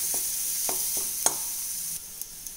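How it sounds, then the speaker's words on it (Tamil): Lentils and garlic roast over a medium flame in a pan. A soft sizzle runs under a handful of sharp spoon taps and scrapes, and no one speaks. "பருப்பு வறுக்கிறதுலேருந்து பூண்டு வறுக்கிறதுலேருந்து எல்லாத்துக்குமே வந்து மிதமான தீலையே வச்சுக்கோங்க"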